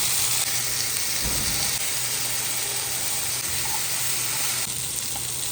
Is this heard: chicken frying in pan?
yes